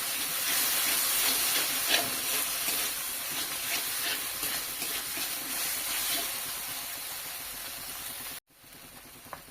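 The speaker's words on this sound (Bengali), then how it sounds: "এটাকেও ভেজে নেব যতক্ষণ না আদা রসুনের গন্ধটা চলে যাচ্ছে" Ginger, green chili and garlic paste frying in a pan, giving a continuous close, bright hiss of sizzling oil with small crackles that drops off abruptly near the end.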